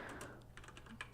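Quick bursts of keystrokes on a computer keyboard, a few short irregular clusters of light clicks, close and fairly quiet, with no talking.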